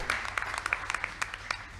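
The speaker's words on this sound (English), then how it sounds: "Y'all give him a round of applause." Scattered applause from a church congregation at a cowboy church service, a sparse patter of hand claps at moderate distance lasting under two seconds.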